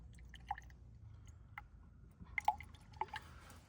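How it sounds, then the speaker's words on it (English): Marvel Mystery Oil drips into the engine of an old AMC Rambler abandoned since 1983, a few soft, sparse drops over a quiet background. "Just drip it down in there and let it do something."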